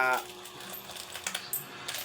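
Small coins drop and clink against a hard surface, with a few light metallic taps scattered across a short moment and a faint voice at the start.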